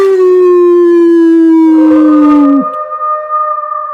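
Werewolf howl for Danny Dog in his werewolf costume at a Peppa Pig Halloween show, one long, loud, sustained tone that slides slowly downward and then cuts off.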